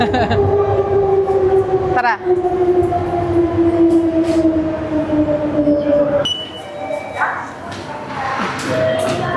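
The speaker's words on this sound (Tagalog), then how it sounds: "naririnig nyo naman siguro yung tren" A train rumbles past close by at a Tokyo station, its tonal whine sliding slowly downward with a brief horn-like tone, while a voice speaks briefly over the noise.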